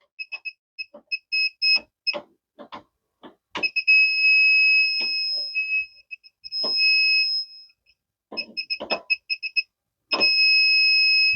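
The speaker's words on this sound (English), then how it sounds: "See how that's a steady beep like that?" A KAIWEETS circuit breaker finder gives a steady, loud high-pitched electronic beep held for a few seconds at a time, between bursts of short chattering beeps and clicks, with no talk.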